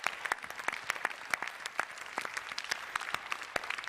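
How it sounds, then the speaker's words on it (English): An audience applauds the panelists at a developer conference, a dense burst of clapping from a crowd that holds steady and close throughout. "So I think, guys, give these guys a round of applause."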